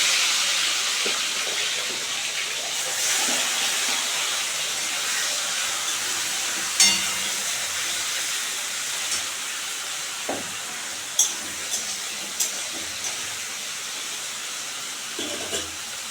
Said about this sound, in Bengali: এখন আমি হলুদ নুন মাখিয়ে নিয়েছি চিংড়ি মাছে এখন এটা দিয়ে দেবো ভেজে নেবো